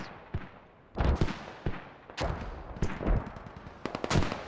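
Mortars and rifles in the tactical shooter Squad fire in scattered, sharp reports, some heavy thumps and some quick cracks, spread irregularly with pauses between bursts and no talking over them.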